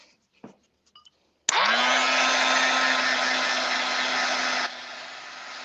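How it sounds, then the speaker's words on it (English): After a few faint taps, a heat gun switches on abruptly and blows hot air over a watercolor gel plate print, a loud steady whooshing hum that drops slightly in level near the end. "Okay, heat gun."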